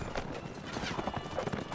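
Horse hooves clip-clop in a quick, steady galloping rhythm during a medieval battle in Mount & Blade Warband, fairly quiet, mixed with clashing combat noise.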